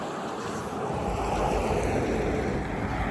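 Wind blows outdoors on a sunny day, a steady rushing roar buffeting the microphone, loud and continuous, with no voices.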